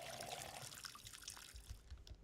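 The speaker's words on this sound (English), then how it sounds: "Pour water in all of these." Water pours and trickles into plant pots in the farming game Schedule I, a close, steady splashing stream that runs for a couple of seconds before tapering off.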